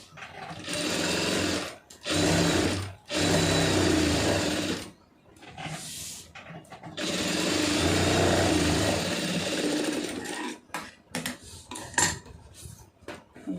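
A sewing machine stitches a blouse sleeve in long loud whirring runs broken by short pauses, ending in quieter stop-start bursts and clicks.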